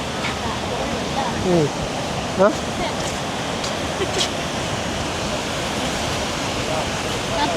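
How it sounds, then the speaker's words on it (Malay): Big sea waves break on a Phuket beach as a continuous broadband wash of surf, with people talking faintly under the steady roar. "Boleh mandi tapi ombak besar tu."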